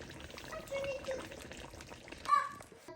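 Cold water is poured into a shake while iftar food is prepared at home, a soft, steady pour at low level with faint kitchen noise around it.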